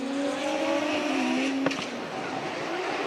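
Drift cars battle at Formula Drift Japan, Hokuto Matsuyama of Cusco Racing leading and Koichi Yamashita of TMS Racing chasing. A steady engine drone with a falling pitch holds throughout, marked by one brief sharp burst midway.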